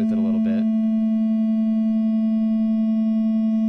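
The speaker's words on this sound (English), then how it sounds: "So here's a particular kind, a triangle wave, which has a very particular pattern of ingredients to create it." After a brief voice at the start, a synthesized triangle wave holds a steady, pure, smooth-toned note, loud and unchanging to the end.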